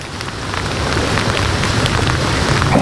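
Rain falling on an umbrella outdoors gives a close, loud, dense patter that grows slightly and stays continuous with scattered heavier drops and no voices.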